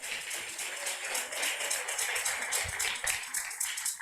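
A church congregation at a thanksgiving service claps and applauds steadily for several seconds, a dense close wash of hand claps with no speech over it.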